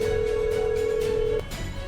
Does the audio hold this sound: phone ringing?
yes